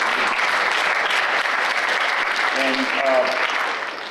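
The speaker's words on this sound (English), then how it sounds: "So a round of applause to all of you." An audience at a university health and aging institute's anniversary event gives a steady round of applause, sustained and fairly loud throughout, with a speaker's voice briefly heard over it near the end.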